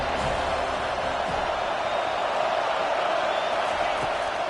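A college football stadium crowd roars in a steady, dense wall of noise behind the defense on a third down in a Mizzou versus Florida State game, with distant murmur and no clear breaks.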